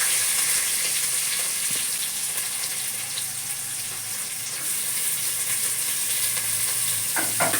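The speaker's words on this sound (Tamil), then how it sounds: "நல்லா வதங்குதா இஞ்சி" Ginger sizzles in hot oil in a pan with fennel seeds, sliced onion and green chillies, frying steadily and fairly loud throughout, with a faint clink of a stirring spoon near the end.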